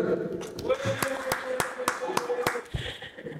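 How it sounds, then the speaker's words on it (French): Sparse, rhythmic handclaps from a small audience welcome a contestant on a dating show, sharp individual claps in a steady beat, with talking and music running underneath. "Applaudissez-la s'il vous plaît."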